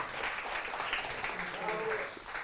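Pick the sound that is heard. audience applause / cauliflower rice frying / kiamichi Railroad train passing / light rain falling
audience applause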